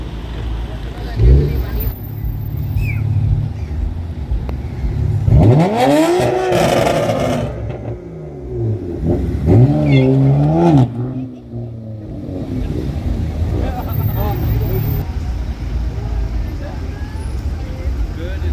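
At a car meet, a McLaren pulls through while a Ford Mustang leaves, their engines swelling in two loud revving bursts with a quieter lull between, over steady background noise and people talking.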